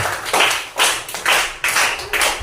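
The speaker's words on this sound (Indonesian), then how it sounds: "Berikan tepuk tangan yang meriah untuk Agra" Classmates clap for a student who has just read a narrative text aloud in a school lesson, short bursts of close, loud clapping in a few uneven rhythmic waves.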